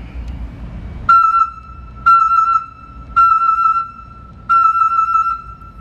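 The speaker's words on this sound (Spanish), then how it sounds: "En la misma palanca contamos con el claxon." Horn on a Raymond 520-OPC30TT electric stacker sounds four loud, close, harmonic-rich electronic honks at roughly one-second intervals, each short and evenly spaced.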